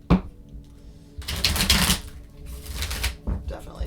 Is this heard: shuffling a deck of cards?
yes